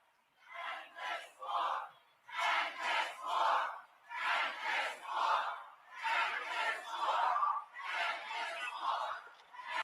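A large crowd at an anti-war protest rally shouts a rhythmic chant in repeated loud phrases, voices rising and falling in unison with short pauses between each line.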